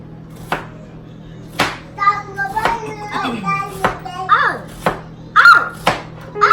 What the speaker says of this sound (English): So mommy gonna cut up the vegetables